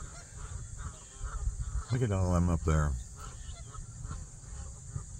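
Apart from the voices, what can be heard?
geese honking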